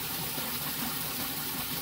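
Water from a tap gushes steadily and loudly into a basin during hand-washing of clothes in El Salvador, a continuous broadband rush with no pauses and no voices.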